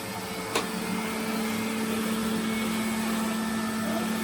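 An old Hoover vacuum cleaner with a floor tool runs steadily on a hard floor, a constant close motor hum with a single brief click near the start and no speech.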